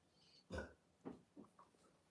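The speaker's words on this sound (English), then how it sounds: "Did you burp?" A single short burp at close range with two or three fainter throaty follow-ups in a quiet room, no talking.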